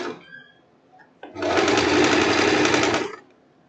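A sewing machine runs a single steady burst of about two seconds, stitching a narrow rolled handkerchief hem on a one-shoulder blouse. Quiet handling noise comes before it, and there is no talk.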